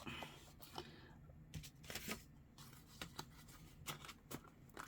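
Scissors snipping small fabric scraps down to size, a series of quiet, irregular crisp snips and light rustles close by, with no talking.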